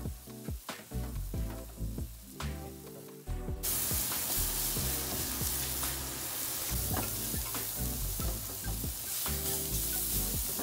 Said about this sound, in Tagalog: Isaute na rin ang chopped garlic.